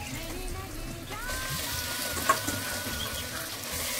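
Pieces of mutton are added to fried onions in a pan, producing a faint, steady sizzle with a brief clink of utensils midway.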